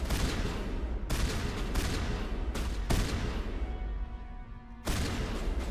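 Shotgun blasts with explosive rounds in the Mass Effect video game, a loud rolling barrage of booming shots with brief gaps between bursts and a fading ringing tail before the firing resumes.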